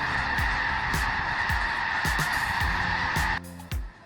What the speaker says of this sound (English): thousands of snow geese descend into Washington's Skagit Valley, a breathtaking migration